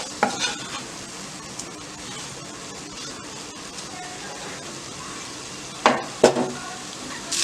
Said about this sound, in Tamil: இதை கொஞ்சம் லோ ஃப்ளேம்லேயே வச்சு நல்லா ரோஸ்ட் ஆகணும்